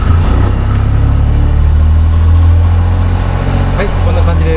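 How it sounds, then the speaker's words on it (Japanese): A 1991 Honda Beat engine running loud and close, a deep steady rumble with a slight rev, and a voice speaking over it. "これでエンジンかかります。"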